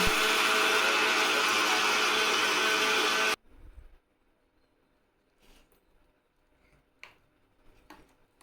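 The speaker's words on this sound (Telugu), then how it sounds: "సైడ్లో అయితే చట్నీ వేద్దామని చెప్పి మిక్స్ అయితే తీసాను" A mixer grinder blends chutney in a home kitchen with a loud, harsh whirring roar that stops abruptly after about three seconds. Faint clicks and small handling knocks follow in near silence.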